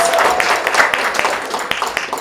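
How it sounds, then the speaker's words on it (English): An audience in a church applauds, a dense round of clapping with scattered sharper claps that gradually thins toward the end, no one speaking. "Let's give her a warm hand of applause for all that she does."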